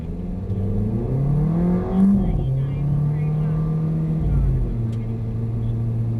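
A Mercedes-Benz car accelerating up to 40 on a driving-experience track, heard from inside as a steady engine drone rising and shifting in pitch, with a brief louder surge midway.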